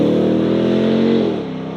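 A RAM TRX Final Edition pickup truck drives on the road, its deep engine note droning steadily and loudly from inside the cab, then dropping in pitch as the throttle eases near the end.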